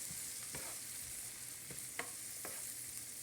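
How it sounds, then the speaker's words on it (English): Diced red and green peppers sauté in butter with a soft, steady sizzle and occasional stirring scrapes, heard up close with no talk. "we're just gonna saute this up in that butter until they're tender"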